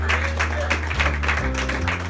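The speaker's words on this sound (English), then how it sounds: "Clap for them, please." Award ceremony audience clapping for honorees, a dense steady patter of applause with a low sustained tone and brief voices underneath.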